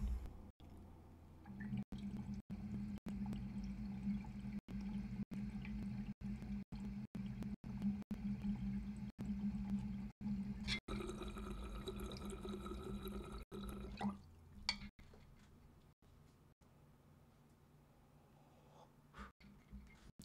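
A water pipe bubbles steadily as air is drawn through it from a Storz & Bickel Venty vaporizer, a continuous gurgling draw lasting around ten seconds, with brief quiet clicks before and after.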